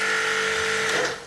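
A jet cleaner pressure washer running again: a steady, loud mechanical motor drone with a constant whine that holds for the whole moment and eases off slightly at the end.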